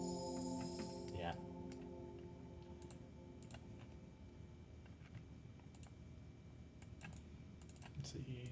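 Computer keyboard typing runs as scattered, quick clicks and taps in short bursts, fairly faint beneath a steady low hum and a faint voice, with a louder cluster of keystrokes near the end.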